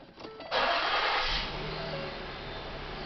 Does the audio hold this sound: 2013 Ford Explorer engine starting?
yes